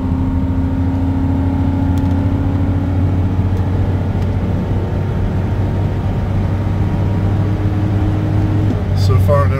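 A 2006 Ford Explorer with the 4.6L V8 and a stuck-open manifold runner control, out on a hilly test drive: a steady, close engine and road drone with a low tonal hum that runs without a break.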